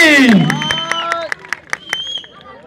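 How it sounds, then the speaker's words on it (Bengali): A handful of scattered hand claps at a village event, greeting the winner of a musical chairs game receiving a prize, following a brief voice at the start and thinning out into sparse, uneven claps. "একটা বড় করে হাততালি।"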